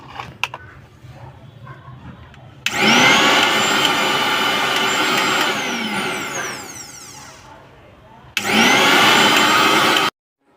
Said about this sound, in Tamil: இப்போ இந்த மிக்ஸி ஆன் பண்ணி பார்க்கலாம்.